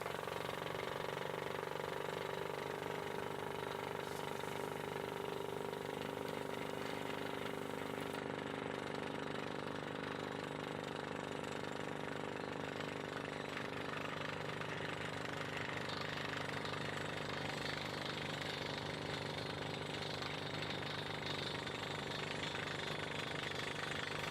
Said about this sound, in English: You can see the drill bit starting to turn.